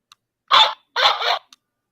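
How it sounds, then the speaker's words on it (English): A dog gives two loud, close barks, a short one then a longer drawn-out one, with brief faint yips around them, recorded indoors while someone tries to coax it into singing. "I'm trying to make the dog sing happy birthday."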